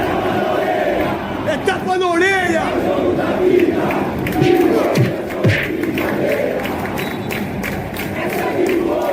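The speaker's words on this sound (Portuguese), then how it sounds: "Coloca o som da torcida." A played effect of football fans cheering: a dense, roaring stadium crowd chanting and shouting continuously, loud and steady, with a voice speaking over it.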